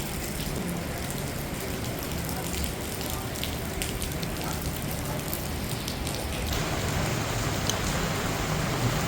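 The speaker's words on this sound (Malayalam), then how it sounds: "അടിപൊളി മഴയാണ് പെയ്തുകൊണ്ടിരിക്കുന്നത്." Heavy monsoon rain pours down near Thiruvananthapuram on the way to Jatayu rock, a dense, loud, unbroken roar of drops that swells slightly toward the end.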